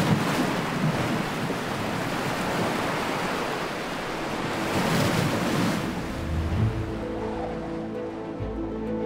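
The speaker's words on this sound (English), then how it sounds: "Falling winds lash the surface of the water." Loud, steady roar of wind-whipped waves breaking across open water, with gusty noise buffeting the microphone throughout.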